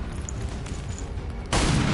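A single loud burst of gunfire from the video game EXCOM Two, arriving abruptly after a low hum of game ambience and sustaining as a broad blast.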